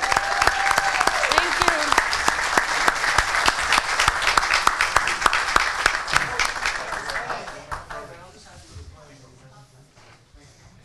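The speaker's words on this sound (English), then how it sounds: "How about another round of applause for the Mustangs?" A board meeting audience gives a loud round of applause for the Mustangs, dense clapping that tapers off over the last few seconds, with a brief spoken thanks during it.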